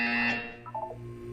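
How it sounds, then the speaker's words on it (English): An electronic buzzer tone in the video game The Stanley Parable sounds loud and steady, then drops into a short stuttering series of lower tonal pulses. "Look up at the ceiling. You will hear a buzzer."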